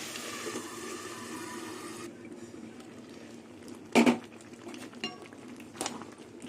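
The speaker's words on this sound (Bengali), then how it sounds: "এবার ঢাকনা দিয়ে দেবো আবার" A lid goes onto a cooking pot of taro stolons with prawns, making one sharp, close clatter after a stretch of soft watery hiss, followed by a couple of lighter taps.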